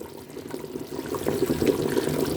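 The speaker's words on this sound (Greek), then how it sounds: "Θα ρίξουμε νεράκι τώρα, θα τα αφήσουμε να πάρει βράση καλή" Water being poured into a pot of beef soup with soft-cooked meat, a steady close pour and trickle that grows slightly louder toward the end, with no voices.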